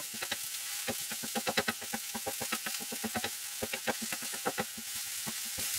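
Garlic fries in a pan under a soft continuous sizzle, punctuated by quick, irregular scraping taps of a utensil stirring it, close and fairly quiet.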